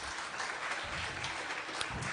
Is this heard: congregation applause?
yes